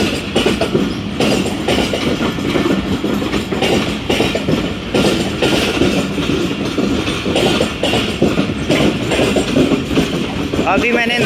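The Karachi Express passenger train rolls through Sama Sata Junction station, a loud, steady rumble of wheels with continuous clickety-clack from the rail joints, close and sustained throughout.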